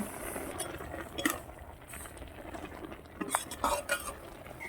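Water spinach (kolmi shak) stalks and chilli stirred in a pan over fried lentils, with scraping spatula knocks and clatters against the pan over a soft sizzle, close and uneven, with no talking.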